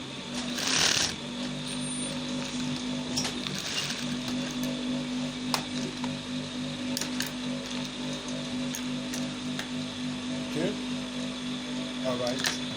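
Sewing machine stitching the tip of a jogger pocket on sweatpants fabric, a steady low mechanical whir with faint ratcheting clicks running throughout, close and moderately quiet.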